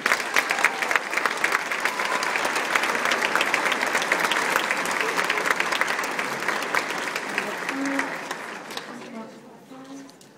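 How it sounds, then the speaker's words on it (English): Audience applause at a Shelbyville Middle School sixth grade band concert, a dense, sustained round of clapping from a crowd that fades out near the end, followed by a few faint voices. "let's go ahead and give them one more round of applause"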